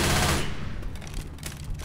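Rapid, dense gunfire aimed at zombies in Left 4 Dead 2, a loud sustained burst that thins into scattered shots.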